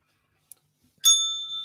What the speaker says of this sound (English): Where is that positivity bell?